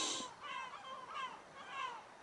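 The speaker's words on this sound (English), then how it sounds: "the seagulls are kicking off this morning" Seagulls call in the morning at a coastal wild camp, three or four drawn-out wailing cries at moderate distance, faint but clear over a quiet background.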